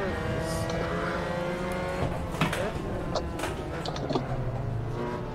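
Racing cars in a sim racing league event, engines droning steadily with sharp gear-shift and tyre sounds throughout, while players talk over the game audio.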